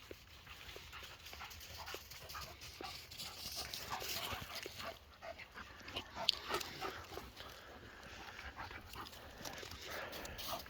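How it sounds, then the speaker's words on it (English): Two sexually mature male dogs play together, with faint scuffling, paw taps and soft whimpers, fairly distant and quiet against outdoor background noise. "As you can see, they're both really mild-tempered dogs. Two sexually mature male dogs."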